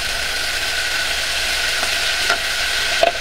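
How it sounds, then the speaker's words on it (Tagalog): Coconut milk sauce for Bicol Express with baby octopus, cooked in a pan and stirred steadily, giving a continuous bubbling sizzle with a few scraping clicks of the utensil near the end. "Haluin hanggang sa maluto ng ayos ang gata."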